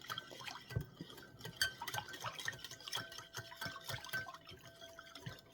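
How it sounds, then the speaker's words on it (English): Ingredients for a barbecue-style sausage sauce being stirred together in a bowl, with soft wet sloshing, clinks and drips in a quiet, steady rhythm close by. "I'm going to mix all the ingredients"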